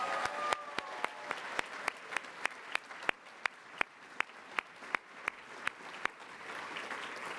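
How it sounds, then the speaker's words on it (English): Audience applause for honorees at an award ceremony: a sustained, fairly soft patter of many hands, with a series of sharper, evenly spaced claps standing out on top. "Give them one more round of applause."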